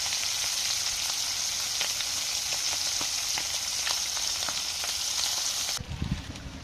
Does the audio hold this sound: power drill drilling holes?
no